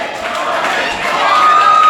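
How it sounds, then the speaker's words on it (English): Wrestling crowd at a Robbie Eagles versus Tommy Knight match, a steady loud roar of many voices in an arena, swelling slightly toward the end with a sustained whistle or shout rising above the din. "there have been dueling chants here for Robbie, for Tommy"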